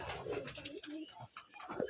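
Tumbler pigeons coo softly in short, throaty bursts in a loft in Rajshahi, Bangladesh, close by and low in volume, with a quiet rustle in the background.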